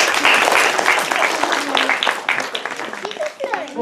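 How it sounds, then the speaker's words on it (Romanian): A small indoor group claps and applauds steadily through the whole stretch, with voices and a child's chatter mixed in over the clapping. "Hai să aplaudă."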